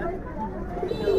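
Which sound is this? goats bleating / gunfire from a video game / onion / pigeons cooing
pigeons cooing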